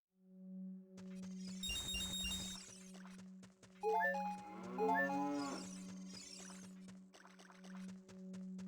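Cattle mooing in the video game Zelda: Ocarina of Time, a few drawn-out moos rising and falling over a steady game hum, clear and close with no talk.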